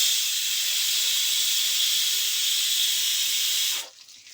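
Brinjal and potato curry frying in a pan, a loud, even, bright hiss held steadily close up for nearly four seconds before it drops away abruptly.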